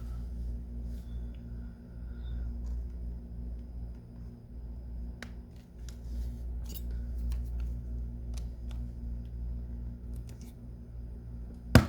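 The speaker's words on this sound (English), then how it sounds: "You hear that nice click when it opened?" The original OEM hinge of a Game Boy Advance SP gives faint, crisp clicks as the handheld is opened, several small ticks spread out over a quiet, steady low hum.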